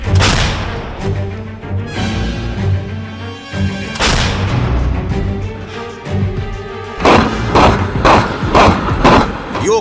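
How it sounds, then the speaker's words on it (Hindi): Artillery fire from the war in Ukraine, a series of heavy booms and rumbling blasts over roughly ten seconds, loud and reverberant with rolling low-end aftermath and no speech. "रूस की मिसाइल, टैंक, तोपखाने और आत्मघाती ड्रोन्स के ताबड़तोड़ हमलों ने ज़ेलेंस्की के यूक्रेन को जहन्नुम बना दिया है"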